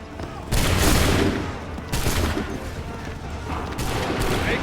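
Musket volleys crack out in an Assassin's Creed 3 battle, three loud broadband bursts of massed gunfire spaced over a few seconds, each trailing into rumbling echo.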